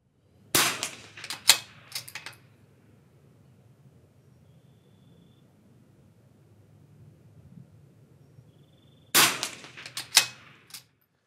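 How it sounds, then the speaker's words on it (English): Rimfire rifle shots from a Vudoo 360 fired at a 50-yard target: a close, sharp cluster of several reports at the start, a long quiet pause with low rumble, then another quick cluster of shots near the end. "in the 360 five-shot group"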